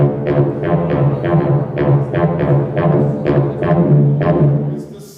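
Bass guitar running through an envelope phaser with an octave pedal added, giving a thick, low-heavy tone with steady plucked notes in a rhythmic line, loud and close, with no talk.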